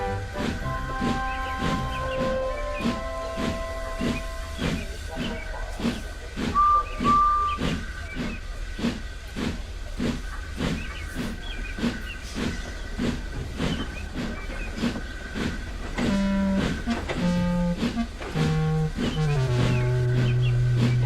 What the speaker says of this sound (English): Edward found it hard to start the heavy train.